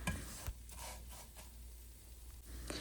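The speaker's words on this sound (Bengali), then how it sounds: "এখন এই ড্রাই ফ্রুটসের মধ্যে আমি সেমাইটাকে প্রায় 1 থেকে 2 মিনিট মতো ভেজে নেব" Vermicelli (semai) frying with dry fruits in a pan over low-medium heat gives a faint steady sizzle with soft stirring scrapes throughout.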